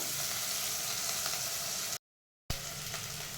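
Field beans and ground masala fry in oil in a pan with a continuous close, moderate sizzle, cut by a brief full silence in the middle before the crackling resumes.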